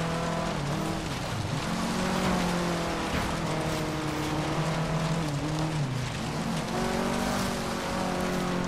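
Race car engine revving and shifting pitch while drifting in Forza Horizon 3, a loud, continuous harmonic whine that rises and dips through the turn without pause.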